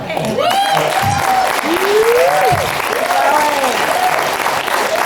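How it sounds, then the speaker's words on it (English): Dense, loud applause from a large audience fills the whole stretch, while voices cheer and call out over the clapping. "it's applause that keeps us going"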